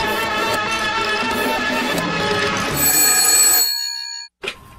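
Telephone bell ringing loud and close in a continuous metallic trill, stopping abruptly near the end, followed by a brief short burst, with no voices.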